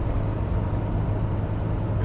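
A 40-year-old Mercedes W123 200d with a manual gearbox and diesel engine heard from inside while driving, a steady low engine drone and road rumble holding even throughout.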